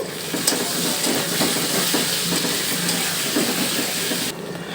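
Spices frying in a pan while being stirred, a steady dense sizzle with a faint scraping texture throughout that drops away sharply near the end.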